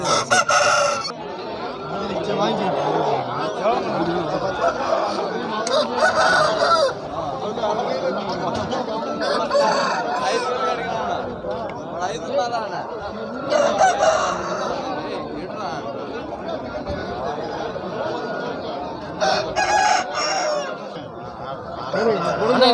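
Roosters crow repeatedly amid clucking chickens and a busy crowd of voices, with people talking throughout the noisy outdoor rooster market at Kavundapadi, India.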